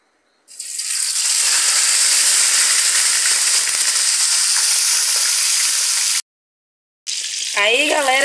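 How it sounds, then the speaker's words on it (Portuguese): Loud, steady sizzle of freshly caught fish frying in hot oil, broad crackling hiss that cuts out briefly near the end, then resumes with a short voice over it. "Aí, galera, já tá aí fritando nosso peixe."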